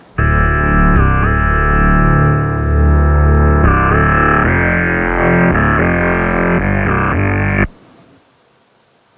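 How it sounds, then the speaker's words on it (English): Heavily distorted electronic bass bus, a dense, buzzy, sustained tone shifting through pitch changes and automated filter sweeps, playing loud and unbroken before cutting off abruptly into near silence. "This distortion plugin is particularly nasty, and I really like that"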